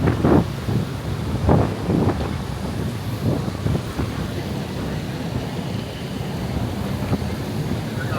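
Strong wind buffeting a small handheld gimbal camera's microphone on a street near Siam Paragon in Bangkok, with heavy rumbling gusts at the start that ease into a steady roar.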